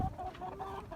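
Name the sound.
Buff Orpington chickens clucking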